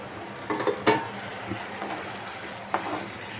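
Paneer gravy with a little added water frying in a pan, a low steady sizzle broken by a few sharp stirring clinks and scrapes, close up.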